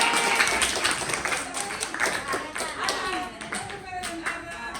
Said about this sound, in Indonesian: Tepuk tangan untuk Yaya.